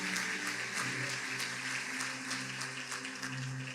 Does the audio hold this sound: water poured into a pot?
no